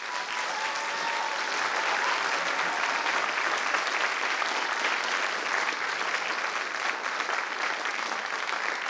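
Sustained audience applause after a Sichuan opera performance of Buddhist and ghost plays, a dense, steady wash of many hands clapping at even loudness for about nine seconds.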